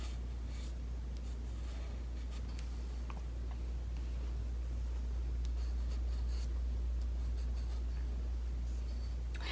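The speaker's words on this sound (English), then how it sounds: "And then draw the bottom of the lip." Pencil sketching a portrait on paper, soft continuous scratching strokes close by, drawing the bottom of a lip, over a low steady hum, with no talking.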